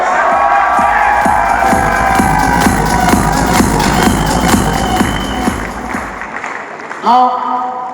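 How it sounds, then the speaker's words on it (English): Crowd applause and cheering fill a large hall for a managed services team standing at a corporate event, loud and sustained for about six seconds before fading, with voices and a rising call near the end. "A big round of applause to all of these guys."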